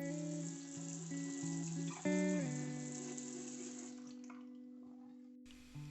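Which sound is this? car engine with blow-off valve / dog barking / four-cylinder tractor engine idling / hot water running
hot water running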